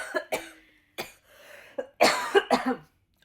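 A person coughs repeatedly after water goes down the wrong pipe, with harsh bursts in uneven clusters and a short pause between them, close and loud.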